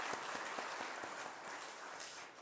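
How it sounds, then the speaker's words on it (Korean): A church congregation claps together at a revival service, a dense wash of applause with scattered sharper hand claps standing out, steady and moderately distant throughout, no voices on top. "우리 특별한 시간으로 박수로 한번 하나님께 영광 돌리겠습니다."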